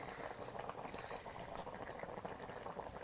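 Murrel (korameenu) snakehead fish curry simmers in a pot, a steady, soft bubbling and gurgling that stays even throughout, faint and close with no voices.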